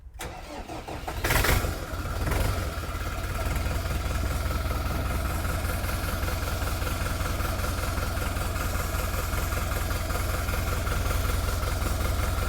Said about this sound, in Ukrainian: Ми паливо прокачали, вижимаємо щеплення і запускаємо.